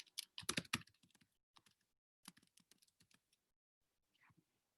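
Quiet bursts of clicky typing on a computer keyboard, with quick runs of keystrokes broken by short pauses, close and faint with no talking.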